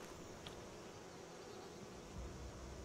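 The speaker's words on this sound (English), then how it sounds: "You see and hear these bees?" Bees hovering near honeybee nests in the video game Skyrim give a steady, continuous buzzing drone, fairly quiet and unbroken, with no voices over it.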